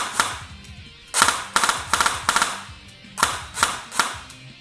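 An airsoft AEG fitted with an upgraded ROA X32 spring guide fires a series of sharp, snappy shots, some single and some in quick pairs, close and loud with brief gaps between them and no talking.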